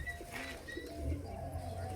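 Racing pigeons on their first day of training coo softly after landing, low throaty calls that overlap steadily against a faint outdoor background.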